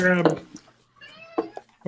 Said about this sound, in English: Spanky, your cat's crying.